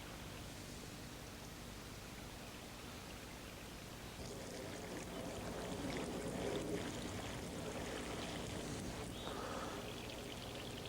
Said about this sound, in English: What we do now is pour the water through this and collect at the other end.